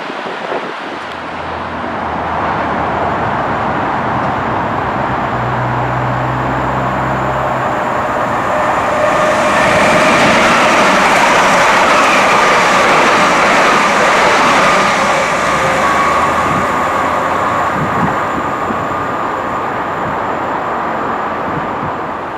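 A passing train at Angel Road station on the West Anglia main line in London gives a loud, sustained rumble and rail roar that swells mid-way and holds steady, with no speech.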